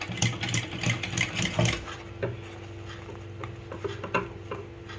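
A sewing machine stitches down a folded sleeve edge, running with a steady mechanical whir and rapid ticking needle strokes, louder at first and then settling into a quieter, even run.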